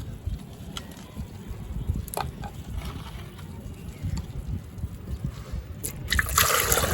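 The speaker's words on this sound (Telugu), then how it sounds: "దీనికి ఒక డబ్బా వాటర్ పోస్తున్నా" Water pours and trickles steadily from a can into a container of fertilizer mix for a rose plant, a low gurgling stream that swells louder near the end.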